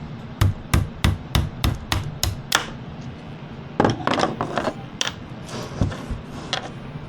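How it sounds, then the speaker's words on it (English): A mallet strikes a thin screwdriver to punch the axle out of a Kizer suspension frame, about ten sharp, evenly spaced knocks, then a pause and a few scattered, looser taps and clatters, all close and loud. "I'm going to be using a really thin screwdriver to punch this through with my mallet to get the axle back out"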